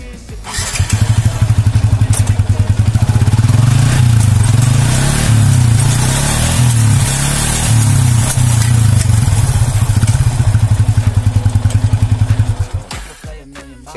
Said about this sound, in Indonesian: bunyi cetek gitu ya ketika dioper apa dilorot atau dikurangi giginya itu